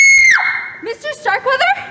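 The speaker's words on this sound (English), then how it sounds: "I heard a scream." A woman lets out a piercing, high scream that slides downward in a radio mystery drama, followed by a voice crying out in distress, loud and close.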